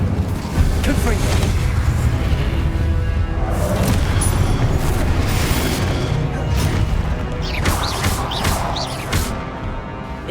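Repeated Confringo blasting spell explosions in Hogwarts Legacy, a dense run of booming, crackling bursts that keep the mix loud and busy for the whole stretch, with a voice shouting spell names over the blasts.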